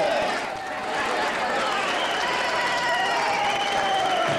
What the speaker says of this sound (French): Un peu d'applaudissements, s'il vous plaît.